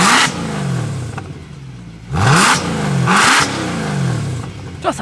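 Mercedes C63 AMG V8 with its exhaust valves closed, revved in short bursts: rising roars that fall back to a burbling idle, loud and close, with no talk.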